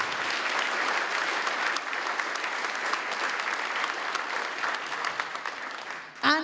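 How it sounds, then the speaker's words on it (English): Audience at a civic and community awards ceremony applauds loudly and steadily for several seconds, a dense, sustained clapping that fades near the end, after which a brief voice cuts in. "Can we have a massive round of applause for all those people?"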